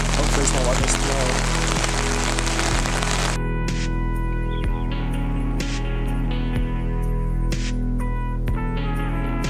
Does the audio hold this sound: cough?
no